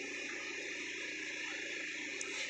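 A truck parked at a lake pumps water out for road construction, producing a constant, even roar of pump noise and rushing water with no breaks, fairly loud and steady throughout.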